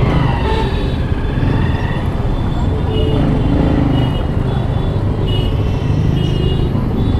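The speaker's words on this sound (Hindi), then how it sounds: "यहाँ पे तो मैं ट्रैफिक एक्सपेक्ट नहीं कर रहा था" Steady, loud road traffic noise heard from a motorbike on the move, with cars, buses and trucks rumbling close by in a continuous wash and no pauses.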